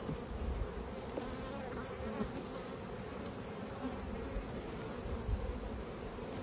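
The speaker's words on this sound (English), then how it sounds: "It could just be robber bees." Robber bees swarm around a robbed-out beehive, a continuous faint buzzing with scattered nearer passes close to the microphone, and nobody talks.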